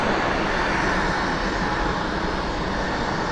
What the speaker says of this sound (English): We got an inbound aircraft